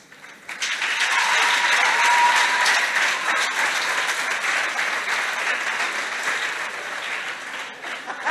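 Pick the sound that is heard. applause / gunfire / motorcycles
applause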